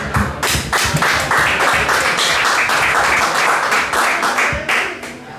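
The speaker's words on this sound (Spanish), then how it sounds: "Un aplauso para Juancho." Applause for a poet at a jam session and poetry slam night at O Alfaiate, a lively audience clapping with a few sharp distinct claps and thumps standing out from a dense, fairly loud spread of hands.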